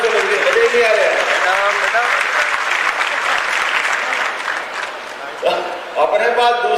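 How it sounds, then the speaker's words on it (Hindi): A large audience at a Global Investors Summit in Bhopal applauds loudly and steadily for several seconds, thinning toward the end as a speaker's voice comes through. "जरा ताली बजाओ तो दिल से बजाओ, मन से ज्यादा जोर से बजाइए"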